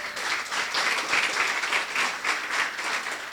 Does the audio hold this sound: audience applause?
yes